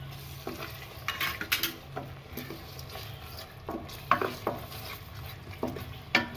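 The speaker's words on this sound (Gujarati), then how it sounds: "ટમેટાની ગ્રેવીને પાંચ મિનિટ પકાવી દઈએ" Tomato gravy with onion, garlic, ginger and chili cooks in a pan, a quiet low sizzle under repeated spoon scrapes and clinks against the pan, close and unhurried.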